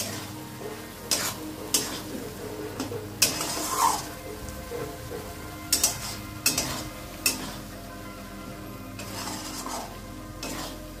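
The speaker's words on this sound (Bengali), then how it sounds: "আলুর সঙ্গে আমি ভালো করে কষিয়ে নেব বন্ধুরা মশলাটাকে।" Spice paste fries with potatoes in a pan as a spoon stirs and scrapes, sharp clattering strokes recurring over a continuous low sizzle.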